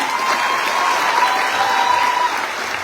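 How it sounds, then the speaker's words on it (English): A commencement ceremony audience claps in a sustained, dense round of applause, close and steady, with a faint high tone running beneath it. "Please, one more round of applause."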